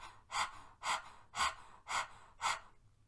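Forceful panting breaths pushed out through an open mouth in a yoga breath-of-fire exercise, five sharp evenly spaced huffs about half a second apart, close and fairly loud with no talking.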